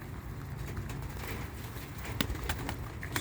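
Domestic pigeons in a loft coo softly near a person, their low calls mixed with rustling, fluttering and steady background noise.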